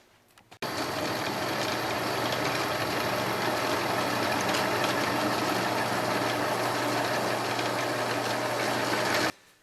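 Drill running continuously with a bigger bit through metal for an A-arm jig, a steady loud droning hum that starts abruptly and holds for about nine seconds before cutting off, no talk.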